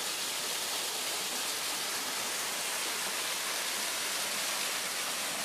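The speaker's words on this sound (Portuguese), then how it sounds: "essa é a quinta queda da a quinta cachoeira aqui na Serra de Boia." A waterfall at Serra da Jibóia in Goiás roars as one dense, unbroken rush of falling water, loud and close, with no voices over it.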